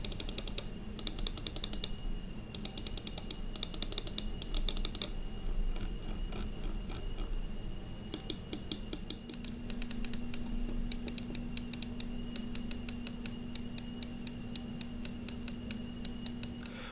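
Button clicks on an Xtrfy M4 gaming mouse come in quick bursts of crisp, light plastic clicks, close and fairly quiet, with short pauses between runs and no talking.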